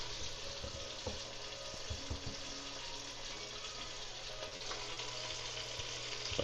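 Mirepoix frying in a pan while chicken and dumplings are being made, a steady broadband sizzle held at an even level throughout, with faint clinks and occasional stirring touches under it and no talking.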